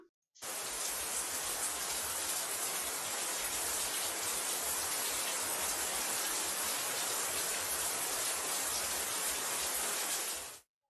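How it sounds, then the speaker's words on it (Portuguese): Rain falls steadily as a dense, even hiss for about ten seconds, starting and stopping abruptly, with no voices. "aí vocês ouviram o barulho da chuva, que é um sonzinho mais fraco"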